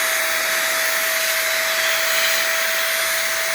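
A rechargeable electric blower runs continuously at high speed with a steady whine and rushing airflow while cleaning the graphics cards of a GPU mining rig. It is loud, close and even, with no talking.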